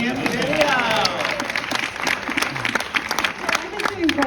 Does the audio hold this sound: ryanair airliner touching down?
no